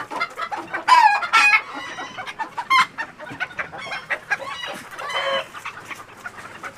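A flock of chickens on a farm clucks and squawks in bursts, several birds close by with irregular sharp calls and a short crow-like cry, no talk.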